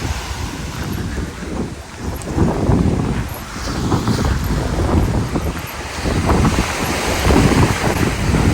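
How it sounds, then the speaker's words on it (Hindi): Open sea in the Maldives under bright sun, with steady wind buffeting the microphone over a constant rush of waves and water, continuous and fairly loud with no talking. "दूर दूर तक कुछ नहीं, सिर्फ समंदर"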